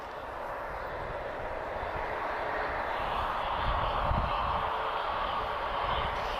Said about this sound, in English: A320-232, so the V2500 series engines. A little bit louder than CFM 56, I reckon.